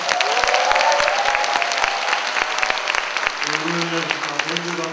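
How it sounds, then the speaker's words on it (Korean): Loud, crisp clapping from a concert audience in Yeongju fills the space. Near the end the clapping thins and a voice starts speaking over it. "최소한 모든 박수는 이 정도가 돼야 됩니다."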